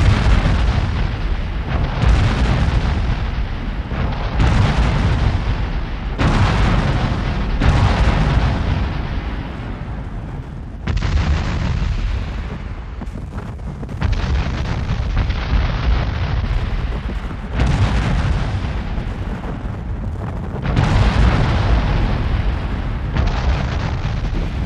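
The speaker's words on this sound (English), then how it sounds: "the Federal guns opened up, and the Southern artillery soon responded." Artillery cannons booming at a Civil War battle re-enactment of Cedar Mountain, a long run of heavy, loud blasts repeating every couple of seconds with rumbling decay between them.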